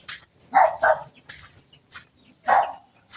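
A dog barks in quick pairs, close and sharp, pausing between bursts with a faint high whine in the background.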